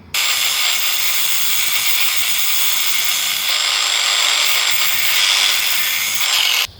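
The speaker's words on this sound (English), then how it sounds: "I'm just going to simply grind that top section down so we've got a perfect thickness just like the bottom" Ryobi multi tool grinder grinding down a metal lock pick, a continuous high-pitched abrasive whine held steady for several seconds with a short dip midway and stopping cleanly at the end.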